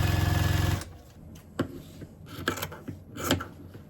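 A sewing machine runs a quarter-inch seam around the border of a bug-themed quilt. A loud, steady mechanical whir lasts under a second, then stops, followed by scattered soft clicks and fabric-handling noises.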